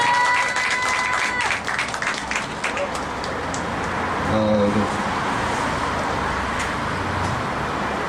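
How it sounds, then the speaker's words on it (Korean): A crowd claps and cheers in a steady wash of applause that holds throughout, with no break. "박수 한번."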